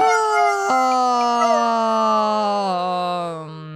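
A werewolf in The Sims 4 howls in one long, loud, sustained rising-and-falling wail that slowly sinks in pitch over nearly four seconds, close and alone with no talk over it.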